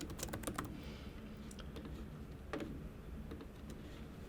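Typing on a computer keyboard to enter a signature into an online form, with a run of quick key clicks followed by scattered single taps, close and fairly quiet.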